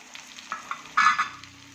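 Tomatoes frying and being stirred in a pan on the stove, a soft steady sizzle with a few scraping stir bursts, one louder flare near the middle, no talking.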